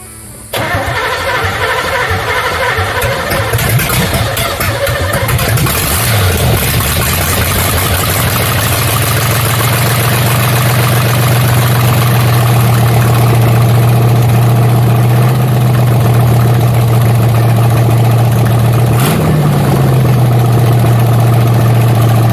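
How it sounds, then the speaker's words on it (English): A Camaro engine turns over and starts, then settles into a loud, steady, high idle with a deep drone that holds close by for about twenty seconds, with a brief rise in pitch near the end; no talking. "It runs pretty fucking well, dude. It idles really high."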